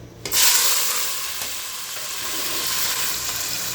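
Ingredients drop into hot oil for an egg curry and set off a sudden loud sizzle that stays as a steady, bright frying hiss to the end.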